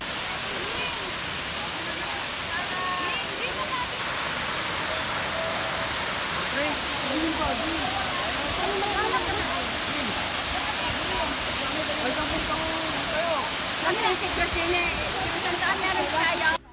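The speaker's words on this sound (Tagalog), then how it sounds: "naririnig ko na yung malalakas na patak ng tubig" Water crashes down at Antipolo falls in a loud, continuous roar that holds steady and swells slightly toward the end, with no talk over it.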